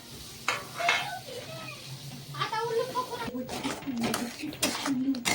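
Spice masala frying in hot oil in a pan for a Raichuri chilli sabzi: a steady sizzle with stirring scrapes underneath, and a voice talking over it for most of the clip.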